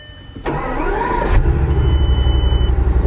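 Bugatti car engine started with the push of a start button: a sharp starter burst then the engine catching and settling into a loud, steady, rumbling idle close by.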